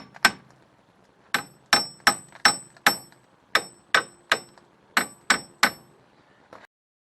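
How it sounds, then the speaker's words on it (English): A hammer strikes a stuck front wheel bearing assembly on an Audi A3 (8PA): about a dozen sharp metallic clangs in uneven clusters with short ringing decay, close and clear, with no voices. "give it a few well-placed whacks with a hammer"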